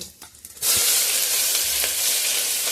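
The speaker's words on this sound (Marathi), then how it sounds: "लसूण झाला का त्याच्यात कांदा टाकू आपण." Onion dropped into hot oil already holding garlic and mustard seeds, bursting into a loud, steady sizzle after a quiet start that continues without a break, close to the pan with no talking.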